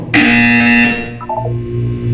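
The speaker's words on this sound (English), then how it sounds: "When you hear the buzzer, look down at the floor." Portal 2 video game buzzer: one loud, sustained electronic tone that holds for about a second and then breaks into a short run of descending beeps, heard alone without speech.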